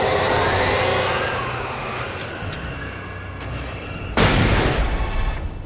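A flashbang grenade detonates in the video game Alan Wake, a sudden loud broadband burst near the end cutting through a constant rumbling ambient background.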